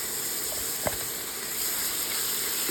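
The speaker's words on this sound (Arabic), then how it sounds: "دلوقتي انا هحمرهم، مش هحمرهم، اخليهم يسوا كما يقولوا، يتشوحوا" Potatoes with garlic sautéing in olive oil in a pan, a steady soft sizzle with a faint clink of a utensil partway through, quiet and continuous.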